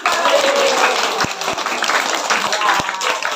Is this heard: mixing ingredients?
no